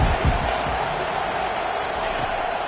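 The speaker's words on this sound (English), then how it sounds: "Decibels rising as the crowd gets behind this defense on third down." A stadium crowd in an American football video game roars during a third-down defensive stand, a loud, continuous wall of cheering with a few sharp thumps near the start.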